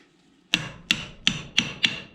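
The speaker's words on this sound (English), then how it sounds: "So using my baby hammer" A small hammer taps five times at a steady pace, close and crisp, knocking a bolted rear suspension part off a Jaguar independent rear suspension unit.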